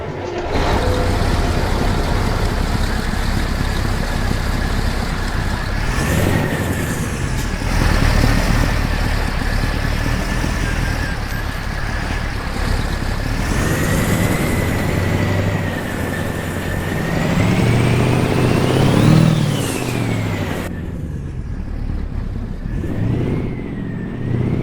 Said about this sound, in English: let's step outside and listen to this engine fire up again